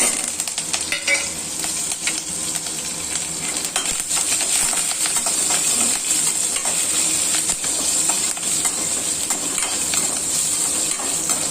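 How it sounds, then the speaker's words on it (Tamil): Dried red chilli, green chillies, ginger and curry leaves sizzle and crackle steadily in hot oil for a potato-masala rice, a loud continuous hiss with scattered pops and no talking. "இப்போ வந்து காஞ்ச மிளகாய் ஒன்று பச்சை மிளகாய் ரெண்டு இஞ்சி கருவேப்பிலை இதெல்லாம் போட்டுக்கலாம்"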